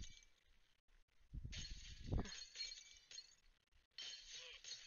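Glass shatters in Happy Wheels on a spinning-glass stage: a sharp crash mid-clip with scattered tinkling pieces, set against constant game music and background noise.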